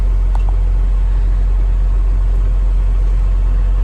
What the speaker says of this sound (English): While we wait for the engine to warm up